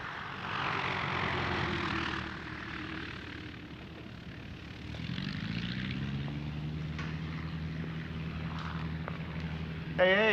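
Propeller engine of a biplane droning steadily, rising to a louder, nearer hum partway through, with continuous noise throughout.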